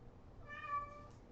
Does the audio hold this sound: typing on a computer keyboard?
no